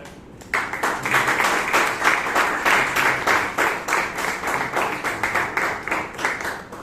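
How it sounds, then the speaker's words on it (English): Audience at a Toastmasters meeting in Bangalore breaks into sustained applause, many hands clapping densely and steadily, filling the room loudly from start to finish. "I want to give you a big round of applause"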